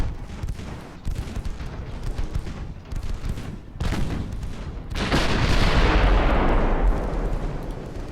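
Battleship 6-inch guns fire in the naval strategy game Ultimate Admiral Dreadnoughts, a series of booming shots followed by a heavy, drawn-out blast that rumbles loudly.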